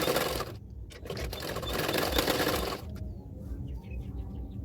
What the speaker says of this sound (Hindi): अभी इस पार्ट को भी इसी तरह से मैंने किनारे किनारे पे सिलाई कर लूँगी